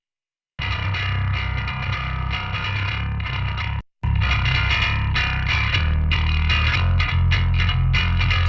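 Bass guitar played through an Axe-Fx III effects processor, a thick distorted tone with chorus-like shimmer, sustained and loud, with a brief cut near the middle before the playing resumes.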